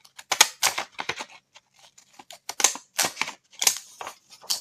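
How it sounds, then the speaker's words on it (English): Scalloped-edge scissors snip through book pages in a series of crisp, close, irregular cutting clicks and crunches, loud and isolated against a quiet background. "I want to use a scalloped edge to cut off the book pages."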